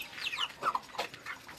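A few soft clucks from young Índio Gigante chickens in a rearing pen, close by and fairly quiet, in short irregular bursts.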